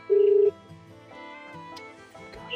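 One short, bright phone keypad beep at the start of dialing, followed by a quiet stretch of faint background noise.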